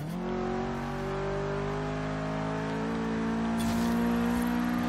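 A 500hp Subaru WRX STI street build in Forza Horizon 3 accelerating hard, its engine note climbing steadily through a sustained loud pull with a brief crackle near the end, no voices.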